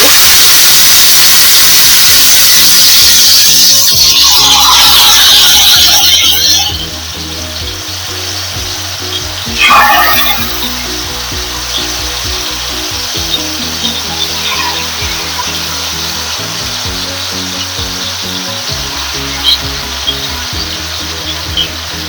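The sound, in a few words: chicken pieces frying in hot oil in a pan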